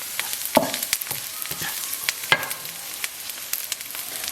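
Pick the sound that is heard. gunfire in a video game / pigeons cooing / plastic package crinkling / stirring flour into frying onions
stirring flour into frying onions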